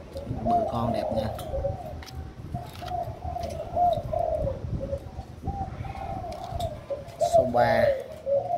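Caged spotted doves give repeated low cooing phrases, close and continuous, while a person talks over them and occasional clicks and rustles break in.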